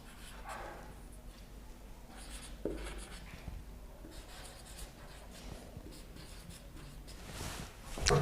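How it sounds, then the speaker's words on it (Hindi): A pen scratches across paper in short strokes and pauses, close and fairly quiet over a low background hum, with a louder rustle near the end. "कुछ इस प्रकार से यहां पर लिखना है"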